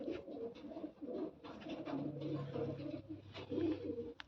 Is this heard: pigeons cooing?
yes